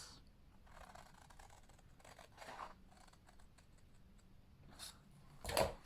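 Scissors snip through scored papercraft paper along long and short lines, giving quiet intermittent cuts and scrapes close by, with a louder burst near the end.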